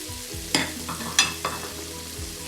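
Wheat sautéing in a pot with fresh parsley and coriander gives a soft sizzle broken by a few sharp clinks and scrapes of stirring, close and moderately loud, with no voices.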